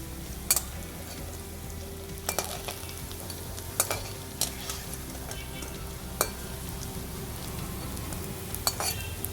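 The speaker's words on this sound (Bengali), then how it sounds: "বড়া হাই ফ্লেমে ভাজলে খুব তাড়াতাড়ি বাইরেটা লাল হয়ে যাবে, ভেতরে ভালো ভাজা হবে না।" Bengali red lentil fritters (dal bora) fry in oil on a medium flame. A soft, even sizzle runs throughout, with sharp clinks and scrapes from a utensil turning them at irregular intervals.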